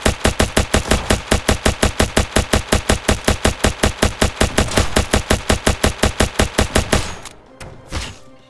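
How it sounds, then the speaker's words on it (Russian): Rapid minigun fire rattles in Ancient Warfare 3, a long unbroken burst of loud, evenly spaced shots that cuts off abruptly near the end, followed by a single dull thud in the quiet. "Так, тихо, по мне, друзья, стреляют."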